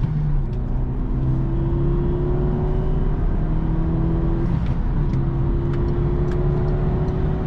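A Peugeot 308 GTi with a 1.6 turbo engine, 197 hp, droning steadily from inside the cabin while driving, with loud continuous engine hum and rising tones under road noise.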